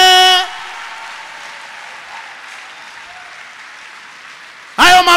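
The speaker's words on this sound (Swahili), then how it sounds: "Hayo makofi hatoshi, mpigieni Jehova na vigelegele vya shangwe" A church congregation applauds in a steady wash of clapping between bursts of a loud voice at the start and end.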